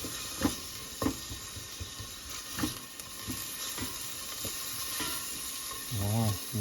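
Onions sautéing in a pan for adobong chicken feet, a steady hiss with periodic scraping stirs, and a voice briefly at the end.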